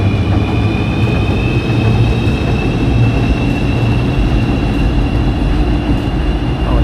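A Light Green Line train in Kuala Lumpur passes with a loud, continuous low rumble and a faint high whine, steady throughout and close by.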